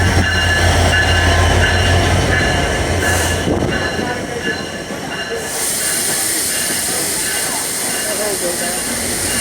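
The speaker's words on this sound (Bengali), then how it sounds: "ছেষট্টি জিরো তিন লোকোমেটিভ নিয়ে ডাউন সীমান্ত এক্সপ্রেস ট্রেনটা কিন্তু সৈয়দপুর ইন করলো" Down Simanta Express passenger train hauled by locomotive 6603 pulls into Saidpur station, a loud continuous rumble of rolling wagons with squealing wheels, steady and close throughout with no talk.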